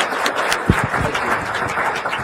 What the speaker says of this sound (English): Can we get a round of applause for our panel?